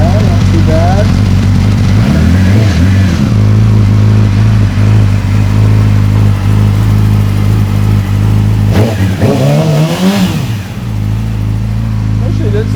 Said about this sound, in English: Alright guys, that's your M4 Streetslayer exhaust.